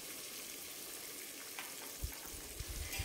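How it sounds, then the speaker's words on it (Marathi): Onion frying in a pan with whole garam masala spices and peanuts for soybean pulao, a faint, hissing sizzle with a few soft knocks of a stirring spoon near the end, no voices. "कांदा चांगला 2-3 मिनिटं फ्राय करून घ्यायचा"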